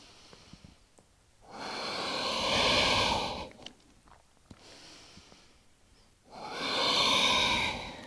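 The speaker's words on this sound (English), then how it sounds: "You might be listening to the sound of your breath." Slow, deep breaths during seated cat-cow yoga: two long, broad whooshing inhales or exhales a few seconds apart, close and clear, with quiet pauses and small clicks between them.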